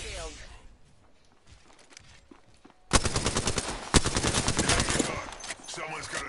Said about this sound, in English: I'm getting shot at now by this guy, that guy.